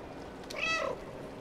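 A cat in the video game Stray gives a single short meow, clear and close, over steady background game ambience.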